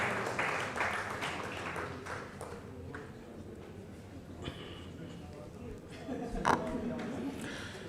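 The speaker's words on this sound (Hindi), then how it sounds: "थोड़ी तालियां एक बार बढ़ा देंगे आप तो अच्छा लगेगा" Audience at a religious gathering for Swami Govind Dev Giri claps in a loose, moderate patter that thins out over several seconds, with a louder burst near the end.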